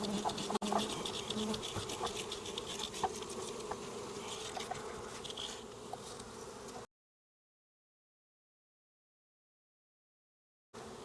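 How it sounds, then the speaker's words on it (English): Honey bees from a package being dumped into a beehive: a dense, steady buzzing swarm close by for about seven seconds, then a gap of silence before the buzzing briefly returns at the end. "And now all there is to do is just simply dump the bees into the beehive."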